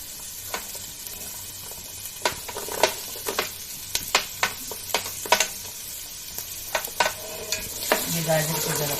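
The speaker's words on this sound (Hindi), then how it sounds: "ये गाजर है, इसको पहले डालेंगे। इसको थोड़ा सा सोते करना है," Carrots sautéing in butter or coconut oil for a beans vegetable soup: a light sizzle broken by sharp, irregular spoon taps and scrapes against the pan, close by.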